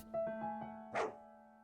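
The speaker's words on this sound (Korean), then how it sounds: "왜 짖었어?" A small house dog barks at night after coming home from a walk, giving several quick, fairly faint yips followed by one louder bark, with a steady background hum throughout.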